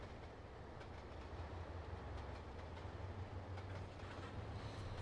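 Freight train rumbling along in Trainz Simulator 2, a steady low engine drone under continuous rolling rail noise with faint rhythmic clicks, no voices.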